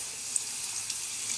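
Tap water runs in a steady, soft hiss for rinsing a face after exfoliating, a continuous close splashing stream with no voices.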